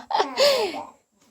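A single sudden sneeze, a sharp breathy burst with a short voiced cry, close by, then quiet.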